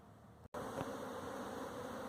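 Dense humming drone of a honeybee swarm circling in the air around a caged queen, a steady close buzz that briefly cuts out, then resumes loud and continuous.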